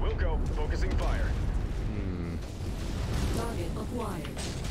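MechWarrior battle with mech weapons firing, loud continuous booms and rumbling blasts layered with mechanical whine, while a person talks over the din.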